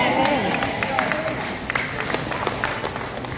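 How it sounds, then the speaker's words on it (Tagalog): A handful of people clapping at a church chapter anniversary gathering, sparse claps that follow a moment of speech and music-like tones, fairly soft and scattered over a few seconds. "Salamat sa tatlong pumalakpak."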